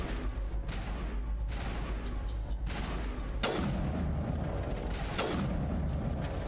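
Bursts of gunfire from the video game Mass Effect crackle in rapid volleys with mechanical clatter and booms, loud and dense over a continuous game background.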